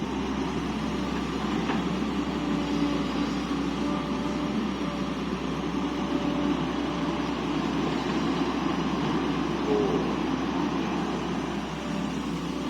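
Two excavators and a tractor work at a land-fill site, giving a steady continuous low machinery rumble with broad noise, fairly constant in level and without speech.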